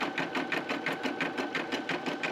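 An embroidery machine stitches a bee design onto coasters, its needle hammering in a fast, even rhythm, close and steady, with no speech.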